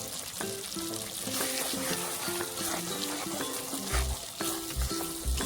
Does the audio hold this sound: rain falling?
no